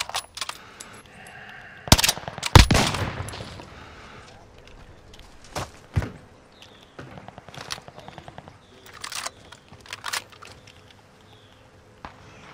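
Gunfire in the battle royale game Call of Duty Warzone: sharp bursts of shots and a rapid volley, some near and loud, others scattered and distant, with footsteps between.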